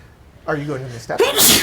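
A single sharp sneeze bursts out near the end, right after a person's spoken question, at close range and fairly loud, during a tabletop role-playing session.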